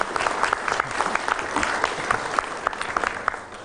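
Applause from a studio audience at a televised chess programme, steady clapping from a moderate crowd held at an even level for a few seconds before easing off at the end.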